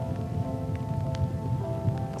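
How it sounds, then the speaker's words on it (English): Steady rain falls through autumn woods during a whitetail archery hunt, a continuous soft patter on leaves with occasional heavier drops, no talking. "It's raining right now."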